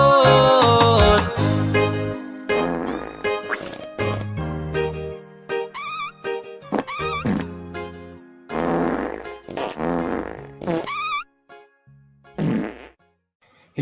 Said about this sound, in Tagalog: Mutingog nga utot, na ay hungaw nga utot.